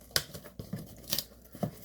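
Box being cut open during an unboxing of Bang Energy Drink Birthday Cake cans bought at Vitamin Shoppe, with a few short, sharp slicing and tearing sounds spaced about half a second apart, close and moderately quiet.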